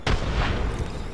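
A frag grenade explodes in a video game as one loud, close, booming blast with a broad rumbling burst that fills the whole second.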